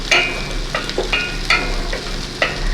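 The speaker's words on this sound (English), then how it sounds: "and stir it constantly" Shallot sauce is stirred in a pan with a spoon, giving a series of quick scraping strokes roughly every half second over a soft, steady sizzle, close and clear.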